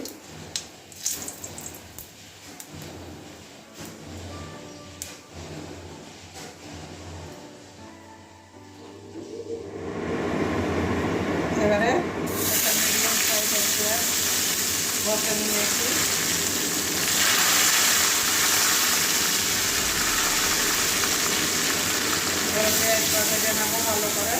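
Whole cumin seeds and bay leaves hit hot oil in a pan for a Bengali katla fish curry with yogurt, bursting into a loud, dense, steady sizzling hiss after a quieter stretch of faint clatter.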